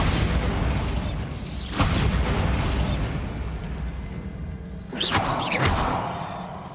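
Bombarda blasting-spell explosions in the video game Hogwarts Legacy: two loud booming bursts with whooshing tails, a few seconds apart, over a low rumbling game background.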